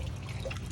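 Water from a pond pump flows back through a filter, a steady close trickle and splash of running water in a brief, even stretch with no talking.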